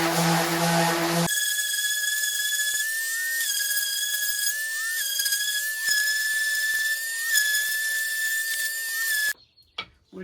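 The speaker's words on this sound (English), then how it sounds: "I can actually sand these at the same time" Wooden cabinet parts being sanded with 80 grit sandpaper by a power sander, a loud steady high whine with rising and falling pitch shifts, ending abruptly in short clattering.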